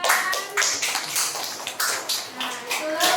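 A classroom of students claps in regular, rhythmic bursts, close and fairly loud, with voices in the background.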